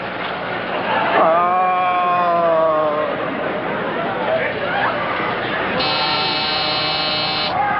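A door buzzer sounds in a 1953 television comedy scene, a harsh, steady electric buzz lasting about two seconds near the end, heard after people talk and argue nearby.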